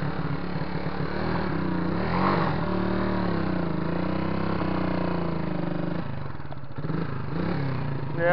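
A motorcycle engine runs continuously close by, its pitch rising and falling through several revs, with a rougher, choppier patch near the end.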